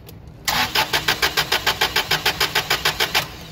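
A Toyota engine with fuel cut off goes through a long cranking start. The starter turns with a steady, rhythmic chug of about fifteen even pulses, up close and alone.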